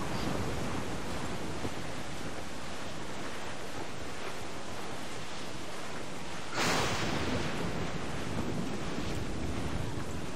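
A waterspout churns over a stormy sea in Assassin's Creed 4 Black Flag. Heavy surf and roaring wind form a dense, constant wash, and a sudden louder gust or crash of spray bursts in partway through.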